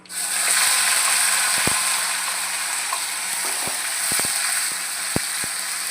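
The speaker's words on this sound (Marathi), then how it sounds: "तेल सुटेपर्यंत चांगला मसाला आपल्याला परतवायचा." Masala paste of tomato, ginger, garlic and curry leaves frying in oil for chole masala gives a steady, close sizzle throughout, broken by a few sharp clicks and taps.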